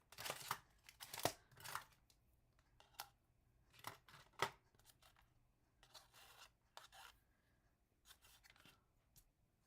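Scissors snip through yarn during crochet work, a string of sharp, close clicks and snips in irregular bursts, heard alone in a quiet room.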